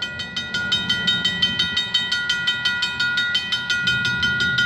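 A Canadian Pacific freight train rolls past at a crossing on a frigid evening, loud and steady, with a regular clickety-clack of wheels over rail joints repeating about every quarter second and a sustained metallic hum.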